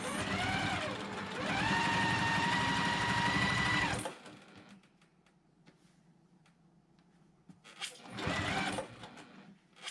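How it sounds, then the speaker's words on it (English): A sewing machine runs a quarter-inch seam on a quilt block, whirring steadily and loudly for about four seconds, then pausing with faint handling sounds before a second short burst of stitching near the end. "we're going to line everything up and stitch that 1/4 inch away from the very edge here"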